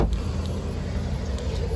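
A car drives past close by, its low broadband engine and tyre rumble holding steady and loud for the whole short stretch, with no talk over it.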